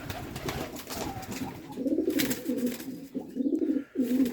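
Pigeons coo in soft, low, rolling phrases that repeat through the second half, close by, over faint background rustling. No one speaks.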